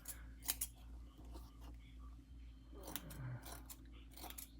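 Scissors snipping a reborn doll's hair, several crisp close cuts scattered irregularly over a faint low hum.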